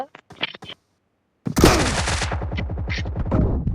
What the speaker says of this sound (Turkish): Öyle lan pompalıyla iyi vurdun